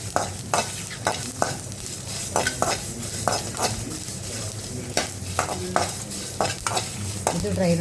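Four dried red chillies dry roasting in a pan, with repeated clinks and scrapes of stirring over a soft background sizzle, steady and close, no voices.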